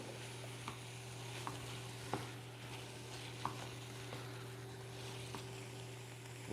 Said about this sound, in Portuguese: Começou a fazer barulhinho, eu já vou incorporar um pouquinho de cebola.